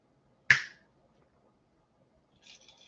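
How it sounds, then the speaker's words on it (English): A single sharp finger snap rings out near the start, close and crisp, followed by near silence and a faint rustle toward the end. "If anybody heard that was me snapping my fingers"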